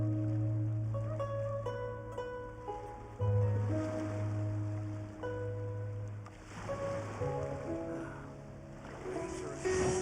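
Ocean waves in the Genshin Impact video game wash in a soft, continuous surf beneath prominent melodic game music, fairly quiet throughout.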